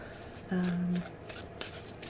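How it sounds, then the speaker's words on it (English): A new tarot card deck shuffled by hand close to the microphone in a quiet ASMR setting, giving a steady soft riffling flutter of cards that carries on for about two seconds. "to me there's nothing quite like shuffling."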